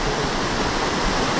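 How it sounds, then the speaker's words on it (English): A waterfall and river pour in a continuous, loud, broadband rush of flowing water, steady and close with no voices, on a hike in Malawi. "And I can see a waterfall there, and the water goes down somewhere there as well into infinity."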